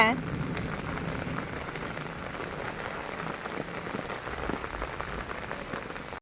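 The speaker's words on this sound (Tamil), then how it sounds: "அப்படியும் என்ன மழை விடலை பாருங்கள் ஃப்ரெண்ட்ஸ்" Steady rain falls on surfaces close by, a dense continuous patter with scattered heavier drops throughout.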